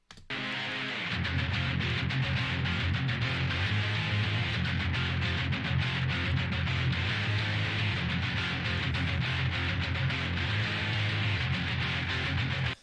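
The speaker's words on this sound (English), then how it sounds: "Just two guitars going there and a bass." Two guitars and a bass play together in a dense, steady rock mix, loud and continuous for the full stretch, with heavy low end under bright distorted guitar layers and no voices.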